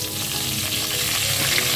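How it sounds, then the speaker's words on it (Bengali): Whole spices (cinnamon, cardamom, cumin and two dried chillies) crackle and sizzle in hot oil, a loud, continuous frying hiss with light stirring and no talking. "এই যে ফোড়ন দিয়ে দিলাম, দারচিনি, এলাচ, তারপর তোমার জিরা, আর হচ্ছে 2টা শুকনো মরিচ"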